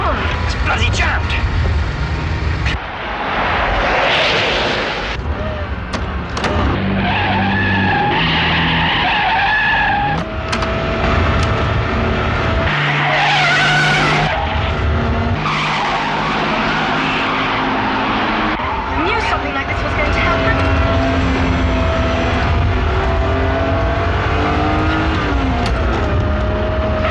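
A car with a jammed gas pedal speeds up uncontrollably in a Hammer horror film, its engine roaring and tyres squealing loudly amid dramatic score, with voices shouting over the din.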